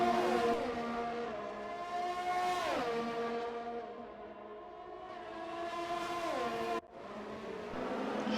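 A Formula 1 race car engine in the F1 2020 video game at Baku whines loudly and steadily, pitch climbing and dropping through gear changes, with a sharp cut before revving again.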